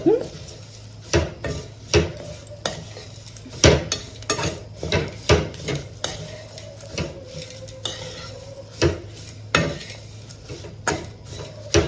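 Curry leaves roasting in a pan while being stirred steadily, giving regular metallic scrapes and knocks of the spoon over a faint sizzle, with occasional speech.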